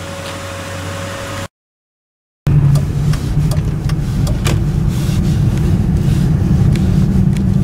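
A Lincoln LS car on the road gives steady, moderately loud road and engine noise, cut by a brief full dropout before the broadband rumble resumes and continues.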